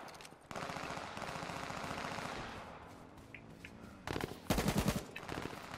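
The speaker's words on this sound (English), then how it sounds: "Oh, I'm getting shot." Rapid machine-gun fire in the video game Grounded, a rattling stream of shots that fades in the middle and then returns in louder, sharper bursts near the end, with no talk over it.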